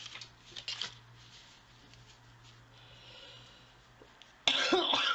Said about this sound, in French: c'est pas possible quand on tousse comme ça